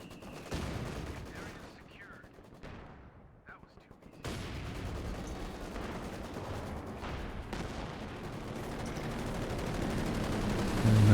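Twin Maxim machine guns fire in a World War II strategy game battle, with steady automatic bursts and scattered gunfire beneath continuous commentary, the din building louder toward the end.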